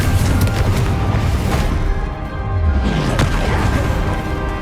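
A Confringo spell blast in Hogwarts Legacy, a loud, rumbling fiery explosion with crackling debris, close and sustained, swelling again after a brief dip amid ongoing combat effects.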